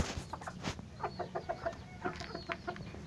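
A rooster at a breeding farm clucks in a quick series of short, close, throaty calls against a faint background.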